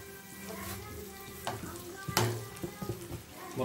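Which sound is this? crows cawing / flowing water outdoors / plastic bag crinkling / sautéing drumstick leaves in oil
sautéing drumstick leaves in oil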